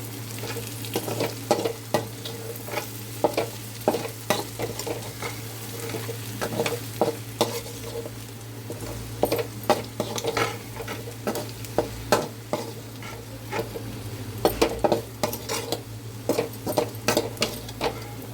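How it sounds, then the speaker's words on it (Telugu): Garam masala is stirred into an egg and prawn curry frying in a pan, with a continuous sizzle under irregular spoon scrapes and clinks against the pan, close and steady. "ఇప్పుడు కొంచెం గరం మసాలా వేసుకుందాం. వేసుకొని ఒకసారి కలుపుకుందాం."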